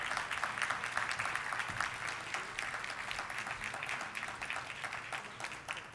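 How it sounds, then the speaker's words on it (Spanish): Applause at a forum on cancer legislation, greeting the director of the National Cancer Institute: a fairly quiet, distant crowd clapping in a continuous, even patter with individual claps flickering through. "Les pido un aplauso"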